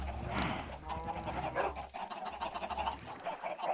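Minecraft chickens cluck and squawk in steady, overlapping bursts in a hardcore vanilla game. The sound is busy and continuous but fairly quiet, and no one speaks.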